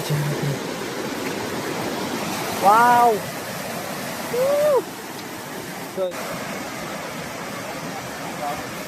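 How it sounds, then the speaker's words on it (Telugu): Bogatha waterfall roars as a steady, loud wash of falling water throughout, with a voice briefly exclaiming over it. "సో మీరైతే ఇప్పుడు వాటర్ ఫాల్ చూసారు కదా"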